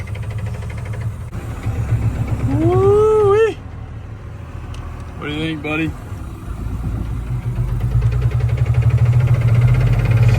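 A long-neglected first-generation Cummins diesel truck engine runs with a rough, steady low rumble throughout, while people talk and exclaim over it.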